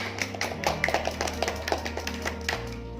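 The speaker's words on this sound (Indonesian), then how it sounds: "tepuk tangan untuk kita semua" A group of students in a classroom counselling session clap their hands in brief rhythmic bursts of taps over a steady low background hum, fairly near and moderately loud.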